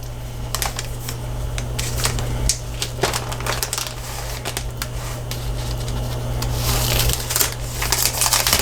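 Gift-wrapping paper crinkles and creases as it is folded over the edge of a present, a run of crisp rustles and small crackles up close over a steady low hum.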